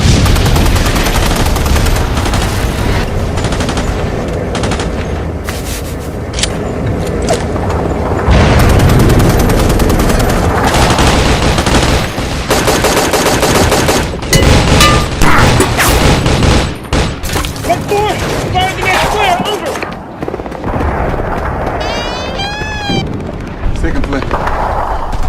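Gunfire in a video game: dense bursts of rapid shots, booms and heavy explosions that come and go loudly over about twenty-five seconds, with excited voices shouting among the blasts.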